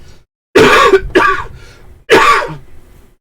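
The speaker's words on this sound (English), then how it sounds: "And I'm going to cough a bit." A few harsh throat-clearing coughs, close and fairly loud, in separate bursts with short pauses between them.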